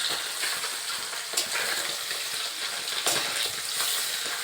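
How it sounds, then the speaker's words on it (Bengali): Turmeric-coated puti fish fry in hot oil with a steady, bright sizzle and crackle, with a couple of sharper spits and no talking. "মাছগুলো এবার একটু ভাজা ভাজা হয়ে গেলে উল্টে নিতে হবে আবার ওপিটটা ভেজে নিতে হবে"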